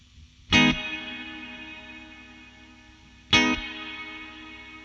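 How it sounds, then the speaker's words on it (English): A Joyo Atmosphere reverb pedal on electric guitar, set to a long decay: two struck chords, each ringing out in a lingering wash that fades slowly before the next. "The decay knob controls the length of the reverb. Short, right, and then long."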